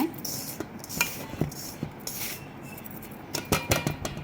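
A spoon stirs roasted cashews into a flattened-rice (aval) laddu mixture in a metal vessel, making irregular clinks, scrapes and knocks against the pot, alone and fairly close.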